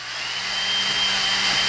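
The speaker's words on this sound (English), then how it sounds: "This is a 1/8 inch size drill bit just to finish cleaning out each of the holes so we can pull out the bracket" A power drill with a 1/8 inch bit whirs steadily as it cleans out the mounting holes of a kickstand bracket on a ZOUPW 450w kickstand, a loud, close, continuous high whine with a slight rise in pitch.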